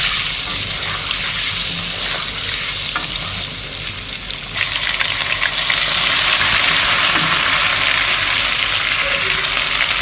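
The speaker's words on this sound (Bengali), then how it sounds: "আদা রসুনের পেস্ট দিয়ে দিলাম।" Ginger garlic paste fries in hot oil in a home kitchen pan, giving a steady, close crackling sizzle that grows a little louder midway and carries on without talk.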